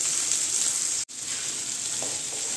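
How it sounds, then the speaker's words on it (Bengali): Potatoes and tomatoes sizzling with browned onions in a pan for masala khichdi, a loud continuous frying hiss that cuts out for an instant midway, then resumes with light stirring scrapes. "দিয়ে এগুলোকে হালকা করে আমি ভেজে নেব"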